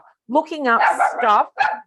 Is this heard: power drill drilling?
no